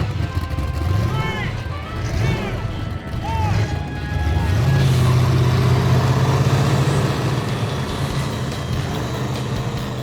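A custom Joker hot rod with a big supercharger blower rumbles loudly, its engine swelling into a sustained deep drone in the second half, with voices talking over the earlier part.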